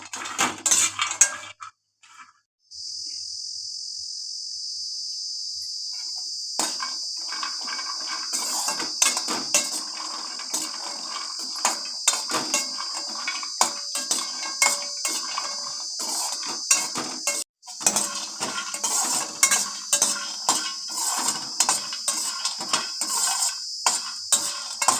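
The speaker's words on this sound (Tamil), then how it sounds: "அடுத்தது பிஸ்தா, அதையும் ட்ரை ரோஸ்ட் பண்ணி எடுத்துக்கணும்" Pistachios dry roasting in a pan scrape and rattle as a utensil stirs them, with frequent clinks against the metal over a steady background hiss. The sound is close and continuous, with a brief pause early on.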